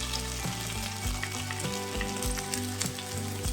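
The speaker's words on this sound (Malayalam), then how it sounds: "ഇതേ പാനിലും അതേ ഓയിലിൽ തന്നെ സവാള ചേർത്ത് വഴറ്റാം" Sliced onions sauté in leftover oil in the same pan used to fry fish, giving a steady loud sizzle with repeated scraping strokes of stirring, no talk.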